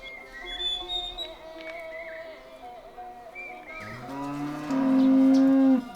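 Cattle mooing on open free pasture land in rural Bhutan, several long, loud lowing calls rising over a steady bed of whistling and birdlike tones, the strongest moo near the end.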